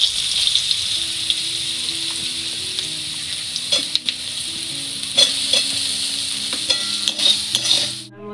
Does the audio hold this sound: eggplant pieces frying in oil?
yes